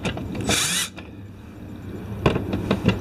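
Torx T25 screws being loosened on the engine cover of a 2008–2012 BMW E90/E92/E93 M3 with the S65 V8, during a spark plug change: a short burst of powered driver whir, then quieter scattered clicks and handling noises.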